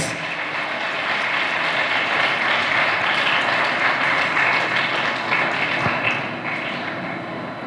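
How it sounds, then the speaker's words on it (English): Audience at a school commencement and moving-up ceremony gives a speaker a big round of applause, a steady and loud wash of clapping from a large crowd that carries on without a break. "Let's give her a big round of applause."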